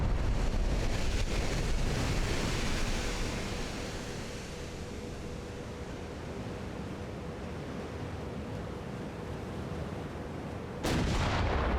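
Naval gunfire from ships in Ultimate Admiral: Dreadnoughts, a continuous roaring wash of cannon fire and sea noise, loud then easing slightly, with a sudden sharp blast near the end.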